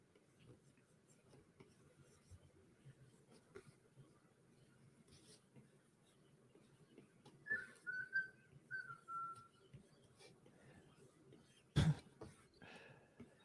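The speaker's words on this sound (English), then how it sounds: "There's a magpie that lives in the tree outside our house," A magpie whistles outside a house, a few clear warbling phrases in the middle of the clip over faint room noise, followed by a sharp close click.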